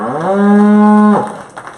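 A cow at a 4H fair dairy show lets out one loud, close, sustained moo that cuts off sharply after about a second, with faint hall noise afterward.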